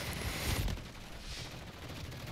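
Burst of machine gun fire in a video game with a wartime SAB-50 setting, loud and dense over the first half-second, then a steady rumble of distant battle noise.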